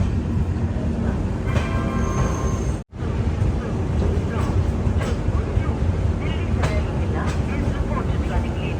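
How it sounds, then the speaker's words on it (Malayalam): The Mandore Express train rolls into Delhi Cantonment railway station with a steady, loud rumble and clatter of wheels that fills the whole stretch, broken by one brief dropout. Station noise and voices sit under it. "ഡൽഹി കണ്ടോൺമെന്റ് റെയിൽവേ സ്റ്റേഷനിലേക്ക് ഇതാ നമ്മുടെ ട്രെയിൻ എത്തിക്കൊണ്ടിരിക്കുക."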